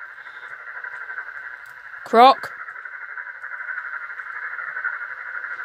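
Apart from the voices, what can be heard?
William Afton noise in Five Nights at Freddy's video game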